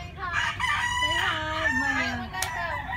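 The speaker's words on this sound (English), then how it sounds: "Nice rooster." A rooster in Nasugbu, Batangas crows loudly and close by, one long drawn-out cock-a-doodle-doo with clucking around it and a brief voice mixed in.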